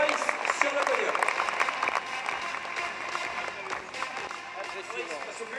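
An audience claps for a motorcycle trial rider standing on the podium, a thick, continuous wash of applause while an announcer's voice speaks over it.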